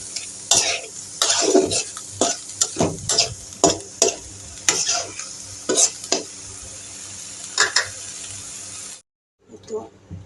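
A spatula scrapes and stirs fish with onion in a frying pan, with a steady sizzle and close, rhythmic scraping strokes that stop near the end before a brief quiet gap.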